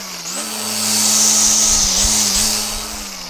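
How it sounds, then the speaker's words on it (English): A Stihl FSA 57 battery-powered string trimmer runs close by with a steady high electric whine that swells and eases as it works back and forth over about three seconds. "we're going to give this old FSA57 Stihl battery operated trimmer a little bit of a workout"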